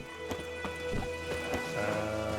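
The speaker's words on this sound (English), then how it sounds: "It's raining, it's pouring, Emperor Mir snoring." Steady rain falls in The Witcher 3, a continuous patter with scattered clip-clop of horse hooves on top and no talk.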